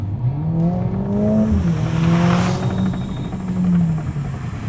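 Engine note of a Mercedes-AMG A 45 S hatchback with a 2-litre four-cylinder, loud and close, droning steadily as the pitch rises, dips with a gear change and climbs again.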